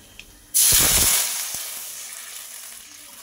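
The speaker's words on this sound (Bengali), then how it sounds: "ফোড়নটা এখানে ভাজা হয়ে গেলে এবার এর মধ্যে দিয়ে দেব প্রয়োজন মতো জল।" Water poured into hot mustard oil tempered with black cumin bursts into a loud, sudden sizzle. The hiss then fades slowly over a few seconds, close and alone.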